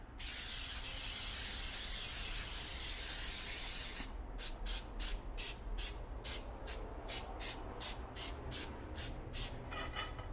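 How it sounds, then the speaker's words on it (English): A continuous aerosol cooking spray hisses steadily, then breaks into a quick series of short, rhythmic bursts, close and fairly loud. "Okay, so then I'll just spray this."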